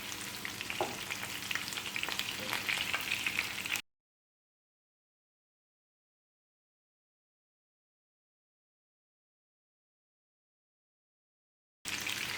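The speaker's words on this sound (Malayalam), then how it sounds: "അങ്ങനെ ബ്രൗൺ നിറമായി ചിക്കൻ തിരിച്ചിടാം." Chicken pieces for Indo-Chinese dragon chicken fry loudly in hot oil with a dense, continuous hiss. The sound cuts to a long silence, then the sizzling briefly returns at the end.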